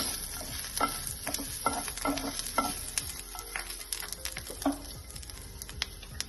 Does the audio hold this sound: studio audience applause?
no